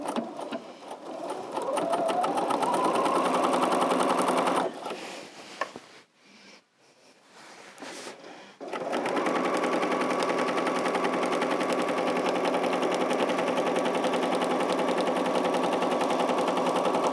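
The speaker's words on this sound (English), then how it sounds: "And then we'll just start sewing." A sewing machine stitches a fabric strip along a marked line at a quilting stitch party, a steady loud whir broken by a pause midway before sewing resumes for a long continuous run.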